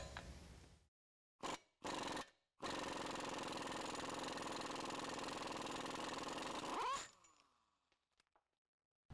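An impact or air tool runs on the axle shaft nut of a Chevy GMC 1500 pickup, with short bursts at first and then one long sustained rattling run that cuts off, followed by faint clinks.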